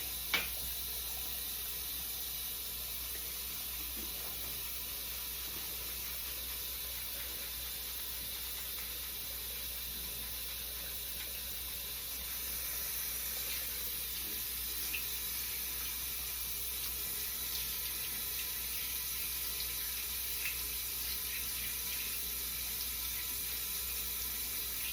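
Tap water runs steadily into a sink while soap is rinsed off a makeup brush, a continuous hiss that lifts slightly halfway through, with no voices.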